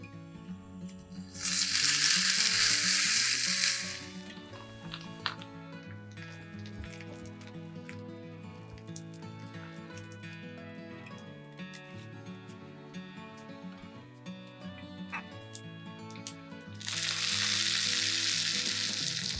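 Grated vegan potato rösti, made from cooked potatoes, frying in fat in a pan: a loud, bright hiss of sizzling swells up at the start and again near the end, with a steady, quieter crackle underneath between them.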